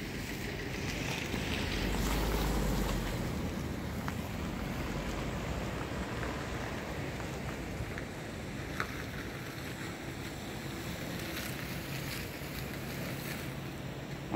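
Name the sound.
Jog Falls waterfall falling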